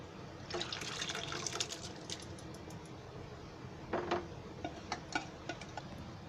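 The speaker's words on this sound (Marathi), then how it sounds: "आता मी हे मटकीचं पाणी आणि मटकी आहे ना ही त्याच्यामध्ये ओतते" Moth bean cooking water and sprouts are poured into a Marathi matki curry, giving faint, soft splashes and a few light drips in a quiet kitchen.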